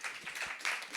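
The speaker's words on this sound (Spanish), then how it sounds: "un aplauso a Xilonen" Brief, faint applause from the audience of an ethnomusicology talk in Mexico, in scattered bursts of clapping over about a second.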